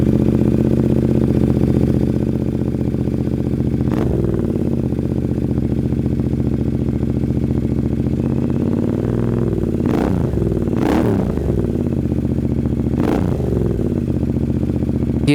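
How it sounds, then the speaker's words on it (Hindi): A Royal Enfield Continental GT 650 twin fitted with an aftermarket exhaust idles loudly and steadily up close, with a few sharp throttle blips rising and falling, two of them in quick succession. "ये था इस बाइक का एग्जॉस्ट नोट."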